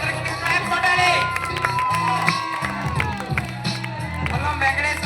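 An outdoor crowd at a village Sankranti festival stage event in Koyavaripalem claps and cheers as a guest is invited onto the stage. The clapping and cheering go on steadily, mixed with loud music and voices.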